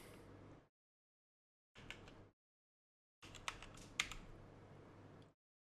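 Computer keyboard typing, entering a file name into animation software, in three separate bursts of rapid keystrokes with silent gaps between, the last burst longest with a few sharper clicks; close and clear, no voice.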